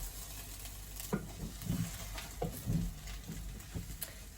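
Meat, onions, peppers and garlic sizzle steadily in a pan, quiet and close, with a few scrapes and taps of a spoon stirring them.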